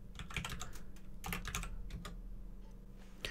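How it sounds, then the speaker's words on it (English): Rapid, crisp keystrokes on a computer keyboard run in an uneven burst of a dozen or so close taps while typing a command on a Windows 10 PC, with no speech. "this time let's type in prefetch"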